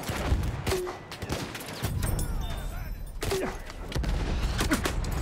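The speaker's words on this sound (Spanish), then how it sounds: "Una ametralladora fija." A fixed machine gun fires in the Battlefield 1 video game, with dense bursts of gunfire and thuds rolling through chaotic battle noise.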